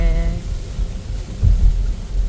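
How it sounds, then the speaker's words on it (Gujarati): Steady rain pours down while low rumbling thunder rolls underneath, loud and close, with a deeper swell of thunder in the second half and no talking. "મસ્ત વરસાદ આવી ગયો છે"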